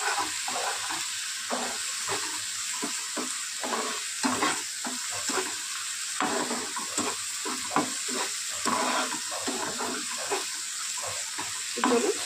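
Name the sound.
stir-frying prawns in poppy seed masala in a pan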